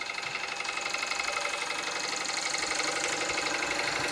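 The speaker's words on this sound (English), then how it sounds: "these are lovely engines, the Jensens." An American Jensen 65 model steam engine runs steadily and close by, giving a dense, even mechanical chugging and whirring with no pauses and no voices.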